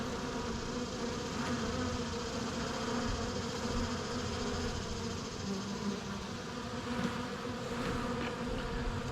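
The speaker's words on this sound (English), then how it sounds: "these bees that are out here collecting nectar, like off the front of a hive" Steady, dense buzzing of many field honey bees at the front of a hive close by, a continuous droning hum with no pauses.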